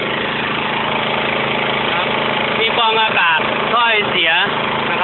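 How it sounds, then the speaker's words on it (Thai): A small water pump engine running on LPG instead of petrol idles steadily with a constant buzzing drone while someone talks over it. "แล้วก็เครื่องยนต์นะครับ ซึ่งเราไม่ใช้น้ำมันนะครับ"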